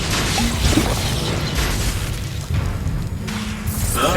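A Bombarda blasting spell explosion in the Hogwarts Legacy video game: loud, continuous booming blasts and crashes with whooshing bursts, filling the whole stretch at high volume.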